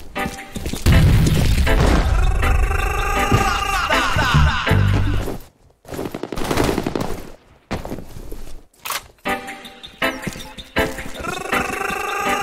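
A grenade going off in the shooter F.E.A.R. Combat: a sharp, loud boom at the start, followed by bursts of gunfire and impacts in broken clusters with short silent gaps between them.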